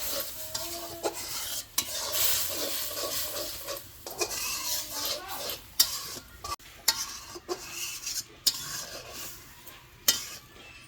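A spoon stirs ginger paste, cumin paste, ghee and garam masala in a pan, giving scraping, rasping strokes in an irregular rhythm over a soft sizzle, with occasional clinks against the metal.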